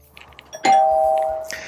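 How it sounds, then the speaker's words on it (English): A budget video doorbell, a Ring alternative, chiming when its circuit is switched back on after installation: a single clear sustained electronic tone that rings for about a second and fades, preceded by faint clicks. "So you should hear that chime when the circuit is turned back on."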